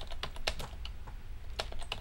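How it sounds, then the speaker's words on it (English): Typing on a computer keyboard, a rapid, irregular patter of close key clicks with a few louder taps over a low background rumble. "I can hear you typing on your computer."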